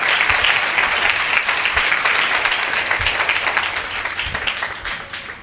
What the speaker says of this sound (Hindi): वचन के प्रेमी तालियां बजा रहे थे।